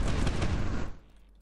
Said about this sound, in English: Okay, yeah, that's cannons.